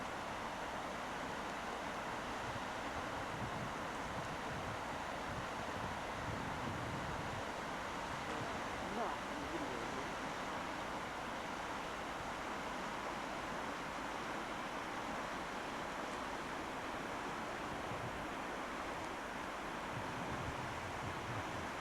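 Steady broadband wind rushes over open tundra beside a river, a continuous breathy roar with microphone buffeting that stays level throughout, no voices.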